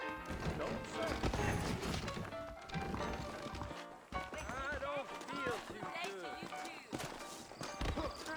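Saddled horses' hooves clip-clop at a walk along a town trail in the Red Dead Redemption western video game, with occasional whinnies, mixed under steady character dialogue and game sound.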